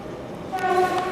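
An ET22-910 electric locomotive of PKP Cargo passes with a loud rumble, and a sustained horn-like tone rises midway.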